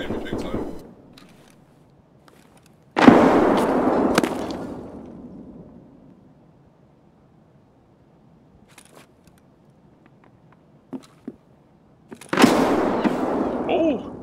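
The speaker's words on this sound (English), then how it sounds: "they're trying to grenade me big time" Two loud, sharp grenade blasts in a video game, each followed by a decaying rumble and spaced several seconds apart. Faint scattered clicks and small noises fall in the quiet gap between them.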